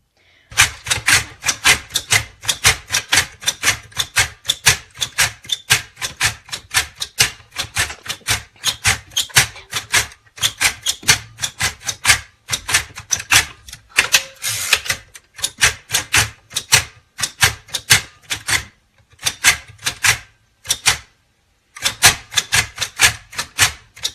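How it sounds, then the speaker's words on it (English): Rapid mechanical clacking of keys on a Perkins Brailler, loud and close, struck in quick bursts with short pauses between runs and an occasional carriage sound, with no talk. "watch a short video of me typing on the Perkins Brailler"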